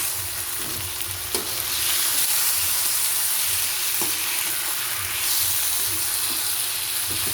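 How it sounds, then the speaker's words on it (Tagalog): Pork fries in a pan for pork pochero, with a loud, constant sizzle and occasional spoon scrapes and knocks as it is stirred nearby. "Haluin lang natin"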